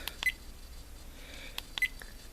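Firefly 7S action camera giving short electronic beeps as its buttons are pressed, two crisp double chirps about a second and a half apart plus a few faint clicks, quiet and close against a soft hiss.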